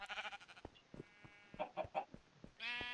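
Several clucks and short calls from chickens in Minecraft, faint and spaced out, with other farm animal noises mixed in and a louder animal cry at the end.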